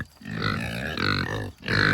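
Farm pigs grunt close by in a short, continuous burst of low, throaty snorts and grunts with a brief pause partway through.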